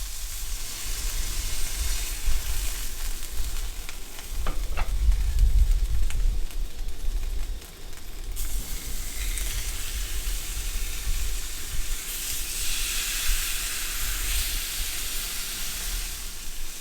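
Steak sizzles in a JetBoil skillet on a small camp stove, a steady close hiss and crackle running throughout with a low burner roar beneath.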